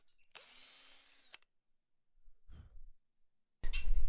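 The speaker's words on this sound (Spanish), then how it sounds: "antes de poner el tornillo vamos a hacer una guía con una broca" Power drill boring a pilot hole in wood while a workbench frame is built, giving a steady whine of about a second, then a short low rumble and a louder burst of noise at the end.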